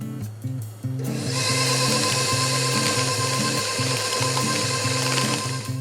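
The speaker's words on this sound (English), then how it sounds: "I'll put the machine on and slowly add the flour mixture" A stand mixer whirs steadily as flour mixture goes into chocolate chip potato chip cookie batter, the motor kicking on after a brief quiet and running loud and continuous with a rhythmic churning.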